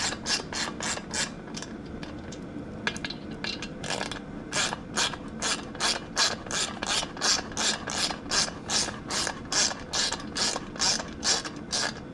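A hand ratchet running down two bolts on a passenger rack for a Can-Am Spyder F3 motorcycle, steady rhythmic clicking strokes repeating close up, growing sharper and more regular toward the end, with no talking.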